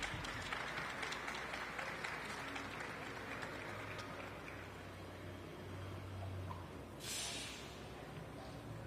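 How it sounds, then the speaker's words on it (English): Audience applause at a Latino Heritage Month celebration hosted by Mayor Karen Bass, a dense, steady patter of many hands clapping at a distance, fairly faint, with a brief hissy burst near the end. "And another round of applause as Danny Trejo takes photos with Mayor Karen Bass."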